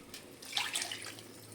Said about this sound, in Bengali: এবার আমি এর মধ্যে ওই বাটিটা ধুয়ে একটু জল দিয়ে দেব।